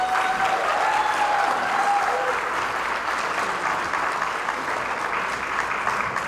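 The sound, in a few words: audience applause at a gala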